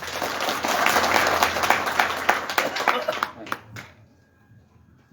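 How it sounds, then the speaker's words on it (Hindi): A gathered crowd at a public event in Uttarakhand gives loud, sustained clapping that builds and holds for several seconds, then quickly tapers to a few scattered claps and near silence. "आप सभी लोगों से मुकेश नेगी जी के लिए एक जोरदार ताली"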